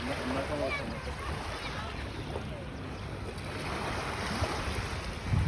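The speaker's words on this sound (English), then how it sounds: "Yeah, this is the beach." Waves wash gently onto a beach in Montreal, a soft continuous surf heard from a moderate distance with some wind rumble across the microphone.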